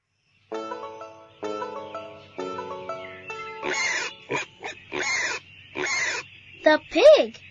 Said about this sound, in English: The pig.